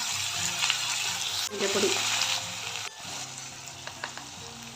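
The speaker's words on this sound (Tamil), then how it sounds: "கத்திரிக்காயும் உருளைக்கிழங்கு. இது நல்லா வதங்கணும்." Eggplant and potato sizzle steadily in a pan, a loud, continuous frying hiss that dips and shifts as the pieces are moved, with a few words spoken over it.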